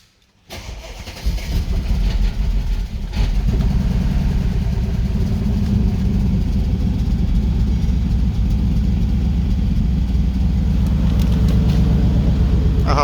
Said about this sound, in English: Alright, time to start the engine.